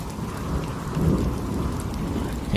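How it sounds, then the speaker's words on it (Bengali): Rain falling outside on a cool, windy day, a dense steady wash of drops with a low rumbling undertone, continuous and fairly loud with no voices. "বাহিরে ঝিরঝিরি বৃষ্টিও পড়ছে।"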